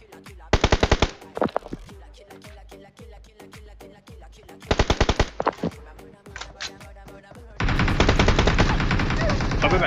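Rapid automatic gunfire in the battle royale game BGMI crackles in several loud bursts, with single shots between, ending in a sustained barrage; a voice talks faintly in the background.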